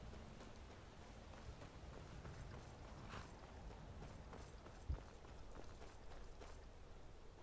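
A horse's hooves clip-clop faintly in Skyrim, a soft, steady patter of footfalls under a constant ambient bed, with one small thump midway.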